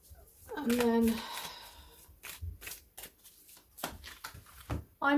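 Soft papery riffling of tarot cards being shuffled in short bursts, close by, with a brief spoken phrase near the start.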